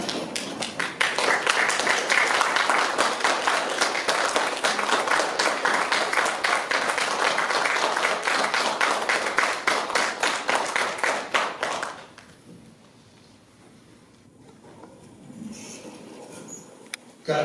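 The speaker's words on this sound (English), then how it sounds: "just give them an applause for a minute" Sustained applause from a large audience at a correctional academy graduation ceremony, dense and steady for about twelve seconds before abruptly dying down to quiet room murmur.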